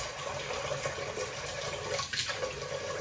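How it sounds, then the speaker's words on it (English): A pitcher of water pours steadily into a cooking pot for tomato sauce, a continuous close gushing and splashing that runs the whole time without pause. "So we'll do a couple more pitchers of water"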